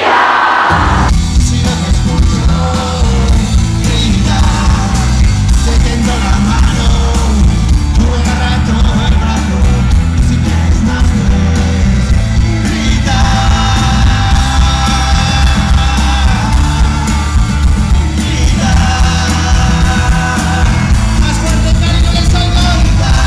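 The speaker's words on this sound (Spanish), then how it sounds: "Todo el público vibró, todas las voces unidas en un solo grita hizo estremecer la piel." Crowd at a Jarabe de Palo rock concert in Cali, dense continuous shouting, whooping and cheering mixed with loud band sound, sustained throughout.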